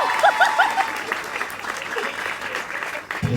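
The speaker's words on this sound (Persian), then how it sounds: "تشویقش کنید." An audience applauds a boy with a burst of scattered, lively clapping at moderate loudness, mixed with a few short whistles and faint voices in the background.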